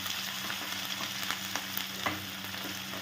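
Green chilli, cinnamon, cardamom and ginger frying in a pan for a papaya curry, a dense steady sizzle close up with faint stirring taps scattered through.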